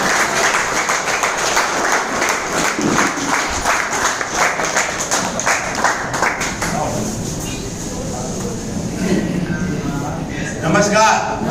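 Loud, steady applause from an audience at a distributors' meeting in a hotel hall in Maninagar, dense clapping running for several seconds before thinning into murmuring and scattered noise.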